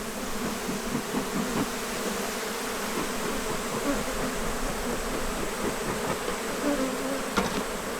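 Honeybees buzzing steadily around an opened hive being taken apart and reassembled, a dense continuous drone close by with faint handling noises beneath.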